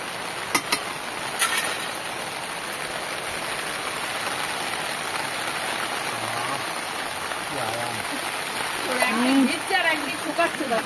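Heavy rain pours steadily outdoors as a constant broadband wash of drops on surfaces, with a few sharper splashes early on and faint voices joining near the end.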